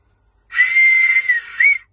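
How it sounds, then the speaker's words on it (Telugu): A whistle is blown in one loud, shrill, sustained blast that ends with a short upward chirp, heard alone against silence. "చిన్న అవసరం విజిల్, ఇట్లాంటి విజిల్"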